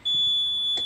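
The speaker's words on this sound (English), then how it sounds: "alarms work." A sailboat's engine alarm on Belfast Lough gives a steady, high-pitched electronic beep that holds for most of a second as the engine is switched on, close and fairly loud.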